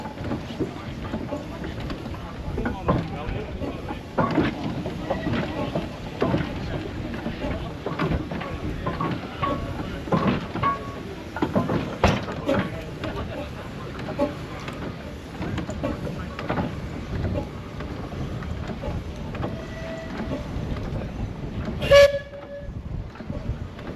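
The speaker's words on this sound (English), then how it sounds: "The engine was slowed right down to make this corner." A steam traction engine at an outdoor steam festival, slowed right down to take a corner, its rumbling chuffs and clanks mixed with railway-like noise, a sharp whistle toot near the end, and people talking faintly nearby.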